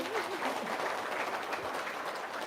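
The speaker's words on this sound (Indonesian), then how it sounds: "Tepuk tangan dulu dong." Audience applause at an Indonesian gathering in honour of Pak Haji Dwi Susanto, a steady wash of clapping at moderate volume with faint voices mixed in.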